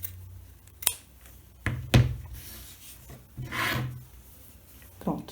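Scissors snipping through coat fabric along a seam line, a few scattered close cuts and rubbing rasps with pauses between them.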